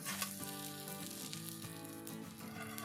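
Saag paratha sizzles steadily in desi ghee on a hot pan, a continuous close frying hiss with no voices.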